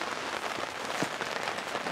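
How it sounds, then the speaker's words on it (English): Rain falling on a campsite during a Memorial Day camping trip, a steady dense patter of drops on surfaces, close and continuous with no talking. "Starting to rain on us."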